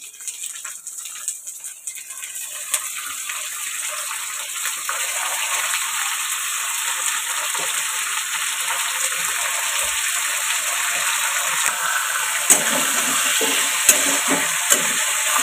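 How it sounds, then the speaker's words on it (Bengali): Meat dropped into a cooking pan of onions fried until red, producing a loud, continuous sizzling hiss that holds steady throughout with a few faint scrapes, close by and with no talking. "এখন আমি আর কি মাংসটা দিয়ে দেবো।"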